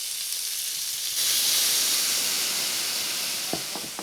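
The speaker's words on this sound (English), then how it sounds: "once the packages have color, cognac to deglaze" Cognac poured into a hot pan to deglaze it after browning, bursting into a loud, steady hissing sizzle that swells and holds, with a few faint utensil clicks near the end.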